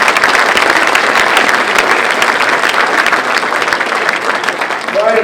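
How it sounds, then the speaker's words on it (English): Sustained applause from a crowd at a memorial ceremony, steady and dense clapping that fills the whole stretch, with a faint voice rising near the end. "Please give them a round of applause"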